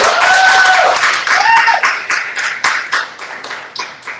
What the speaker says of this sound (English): Let's have another round of applause for Fonda Lee